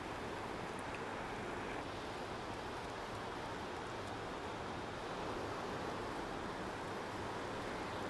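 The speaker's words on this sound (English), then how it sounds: "Bring your attention back to the waves on the shore." Waves on a shore wash in a steady, broad roar of surf with no distinct breaks, moderately loud and alone without any voices.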